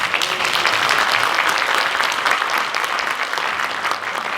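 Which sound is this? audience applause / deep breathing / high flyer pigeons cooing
audience applause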